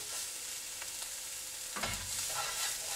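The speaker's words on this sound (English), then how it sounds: "all we have to do is just mix them all together" Ingredients being mixed together in a pan, a faint, steady sizzle with a louder stirring scrape near the end, close and quiet, no speech.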